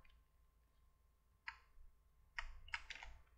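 A few quick bursts of keystrokes on a computer keyboard while entering a spreadsheet formula, soft clustered clicks near the end over a quiet room hum.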